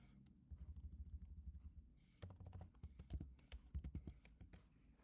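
Computer keyboard typing: a run of quick key clicks, then a faster, irregular burst of tapping, close and clear with no talk.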